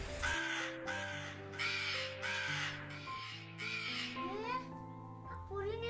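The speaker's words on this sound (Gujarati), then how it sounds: "એટલામાં એક ભૂખ્યો કાગડો આવી ચડ્યો" A crow caws repeatedly in a lively, cartoonish sequence over background music, apparently voiced in an animated story style.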